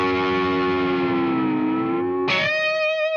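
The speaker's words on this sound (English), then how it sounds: "you take your whammy bar, you dive it down, and then you bring it back up" Sustained electric guitar harmonic with distortion sags downward in pitch, then snaps sharply back up near the end as the whammy bar dives and returns, in a lead-guitar passage; loud and alone.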